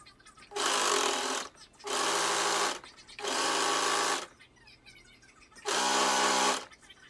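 A sewing machine stitches the side seam of a pair of pants in four loud, close bursts of rapid whirring, each about a second long, separated by short quiet pauses.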